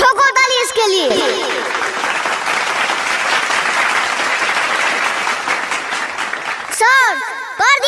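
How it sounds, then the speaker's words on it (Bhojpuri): Loud, sustained applause from a group, many hands clapping steadily for several seconds, with excited voices over the start and end. "ठोको ताली इसके लिए"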